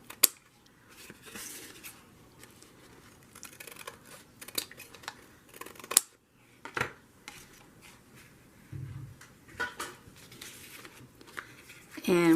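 Scissors snipping paper while making a junk journal, a scatter of short, soft cuts and rustles spread across the stretch, close by and quiet, with brief handling noises between them.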